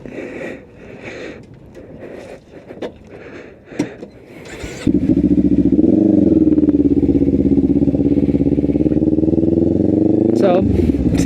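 A Kawasaki Ninja 500 motorcycle engine catches and settles into a loud, steady close-up drone with slight rising and falling revs, after a stretch of voices and clatter; people talk before it starts.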